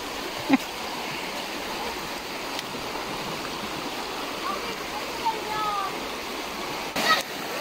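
A riverside stream flows in a continuous, even rush of water, close and moderately loud, with a few brief knocks and splashes over it.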